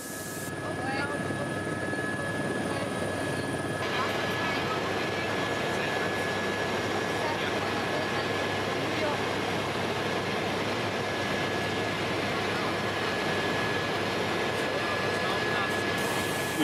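Aircraft engine roar from news footage of a plane flying over the city during a terrorist attack, a loud steady rumble running the whole way through beneath faint background voices.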